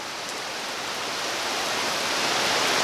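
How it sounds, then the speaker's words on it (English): Steady rain pours outdoors in a dense, continuous hiss that swells slightly louder over the stretch, with no voices. "Check this rain out."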